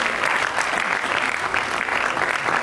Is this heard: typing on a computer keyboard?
no